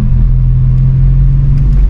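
Loud, steady engine drone from a car with a six-speed manual gearbox held in third gear, revving continuously with a strong low rumble and no break, close to the listener.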